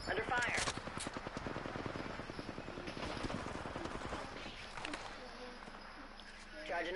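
Rapid automatic gunfire from an Apex Legends firefight, dense bursts of shots dominating the first half then continuing more sparsely, with a player talking over the action.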